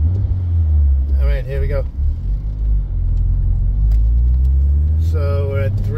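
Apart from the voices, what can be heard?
car engine revving to 3000 rpm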